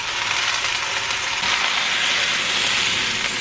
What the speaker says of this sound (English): We're going to let it sear on this side for about another 2 or 3 minutes.